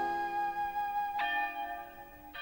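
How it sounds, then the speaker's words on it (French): Cartoon church bells ring in sustained, shimmering tones, with two fresh strikes renewing the ringing about a second apart, clear and steady with no voices. "Tiens, on dirait des cloches. Je les entends."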